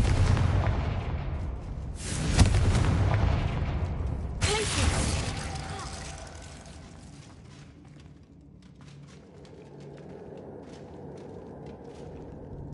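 Confringo fire spells blast in the video game Hogwarts Legacy, two sharp booming explosions a couple of seconds apart, each followed by crackling debris and a fading rumble, with a brief spoken voice.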